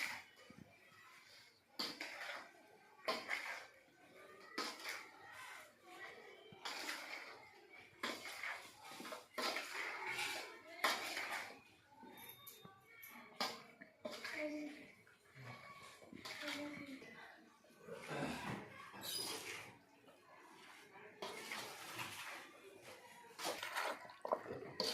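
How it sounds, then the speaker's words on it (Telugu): A ladle mixes hot oil in a metal vessel, making quiet, irregular clinks, scrapes and wet sloshes while a person talks over it. "చేయి పెడితే చేయి కాలిపోతుంది కాబట్టి వేడివేడిగా ఉంది ఆయిల్, అందుకని గరిటెతో మిక్స్ చేసేసుకున్నాం"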